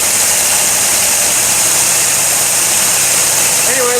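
A running engine with sticky valves idles loudly and close, a steady rough drone with light clacking mixed in, and a voice speaks over it.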